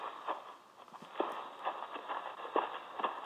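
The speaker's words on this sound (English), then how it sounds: "Footsteps." Irregular footsteps thud softly in a quiet, hollow-sounding space, each step a faint dull knock, continuing for a few seconds.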